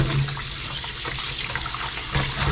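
Running tap water splashes steadily into a sink while pig's feet are rinsed, a continuous close hiss with slight gurgling changes.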